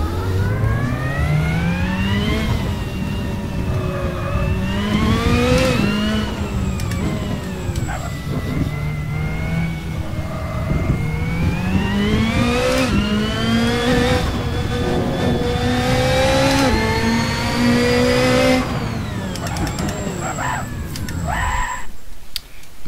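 A car engine in the Assetto Corsa racing game runs on the pit straight, loud and continuous, its pitch climbing and falling through repeated gear changes before cutting off at the end, with no talk.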